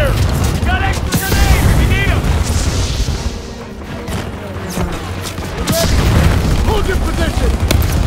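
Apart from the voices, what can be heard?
gunfire and explosions in Call of Duty WW2 video game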